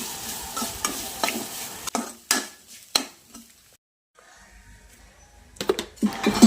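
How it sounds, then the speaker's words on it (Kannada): Grated coconut frying in a pan of tempering, with close bursts of sizzle and crackle, a few sharp stirring scrapes, a brief quieter lull, then a renewed loud sizzle at the end. "ಒಗ್ಗರಣೆಗೆ ಸ್ವಲ್ಪ ತೆಂಗಿನ ತುರಿ ಹಾಕ್ತಾ ಇದ್ದೇನೆ."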